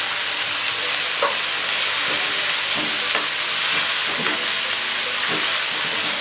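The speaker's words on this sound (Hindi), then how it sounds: "हम इसको इसी तरह खुला छोड़ के फ्राई करेंगे। ये सब्जियों को हमने अच्छा सा फ्राई करना है" Vegetables and chicken for fried rice fry uncovered in a pan, giving a steady, dense sizzle throughout with occasional soft stirring clicks and scrapes.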